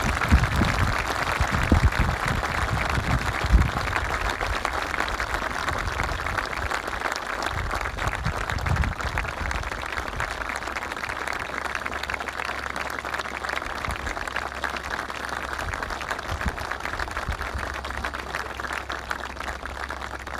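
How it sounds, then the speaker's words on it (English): Sustained crowd applause fills a high school commencement hall in honor of the teachers, a steady dense clapping wash that holds for about twenty seconds with only brief louder bursts near the start. "please join me in a round of applause for all of our teachers"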